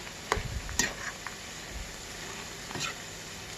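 A spoon stirs cabbage pakoda batter as it fries in a pan, giving faint scraping clicks and a soft steady sizzle, with a few sharper taps of utensil against metal.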